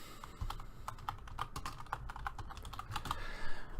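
Steady typing on a computer keyboard, a quick irregular run of light clicking keystrokes close by, with no voices.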